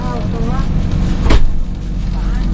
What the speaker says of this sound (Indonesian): Kita OTW Sumatera Barat menggunakan bus Sembodo ya, teman-teman.